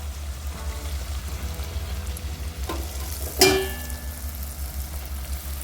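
Wheat flour appam batter fries in hot oil with a continuous, close sizzle, broken midway by a sharp splashing burst as more oil or batter hits the pan, and no one speaks.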